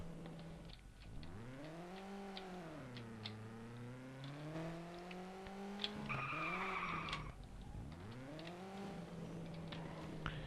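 Racing engines rev up and down in long sweeping pitch glides, with tires squealing midway, sounding like game cars accelerating hard along a strip.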